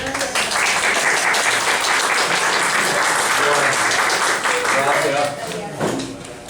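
An audience applauds a professor taking the podium at a university archaeology workshop on prospection and rock art sites; steady, dense clapping fills the room for about five seconds, then thins out, with some voices murmuring underneath.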